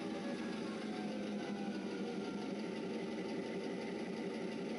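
A Kato sound box produces the engine sound for an N scale model locomotive, a steady, unbroken droning hum at moderate level with no pauses.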